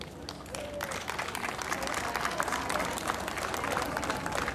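Audience applause at the opening of the "Pastra Trapeza" festival hosted by the GERB party in Krasno Selo, a steady wash of many hands clapping with crowd noise and some voices mixed in throughout.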